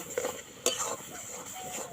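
Quiet scraping and clinking of a utensil stirring a spiced raw mango mixture in a pan, with a couple of sharper knocks against the metal, faint and close.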